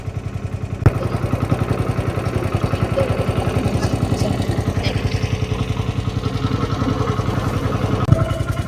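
A boat's motor chugs steadily and close by on the Napo river in the Amazon, its fast, even pulsing running unbroken throughout with a brief knock near the start.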